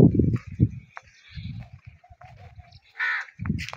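Crows caw in short harsh bursts from dense bushes near an old brick kiln, several calls spread across the moment at moderate distance, with some low rumbling thumps mixed in.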